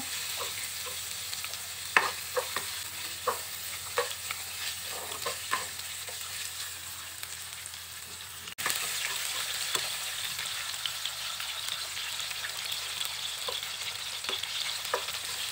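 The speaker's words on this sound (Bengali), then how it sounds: "আর চিকেনটা খুব ভালোভাবে ভেজে নেব।" Chicken pieces fry in butter in a pan, a continuous soft sizzle punctuated by repeated scraping stirs of a spatula, a brief dip and a louder burst midway, steady and close with no speech.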